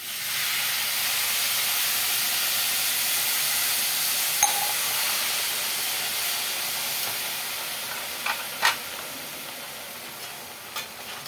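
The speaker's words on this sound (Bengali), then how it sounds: "জলটা দেওয়ার পরে এই সবজিটা টকবগিয়ে ফুটে উঠেছে।" Vegetables in a pan bubble and hiss steadily once water has been added. A constant, broad, close hiss continues throughout, with a few faint clicks near the end.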